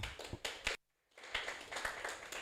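Scattered applause from a small crowd at an evening meetup after a speaker, a burst of clapping that stops briefly, then resumes at a steady level.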